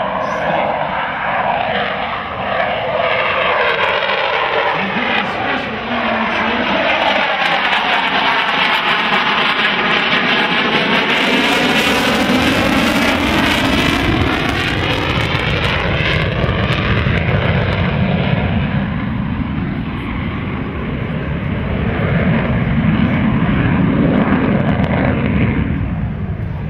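An F/A-18 Super Hornet jet at the Miramar air show makes a loud, sustained roar that swells and sweeps in pitch as it passes low at about 140 knots with its tailhook extended, filling the whole stretch without talk.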